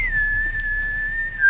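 A person whistles a single sustained steady note, fairly loud and close, holding almost flat for the whole stretch with a slight rise at the end.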